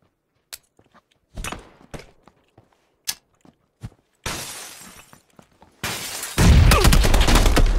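Gunfire in a video game: isolated sharp shots crack out at irregular intervals, building into louder, denser bursts and a sustained roar of fire with a shattering edge toward the end.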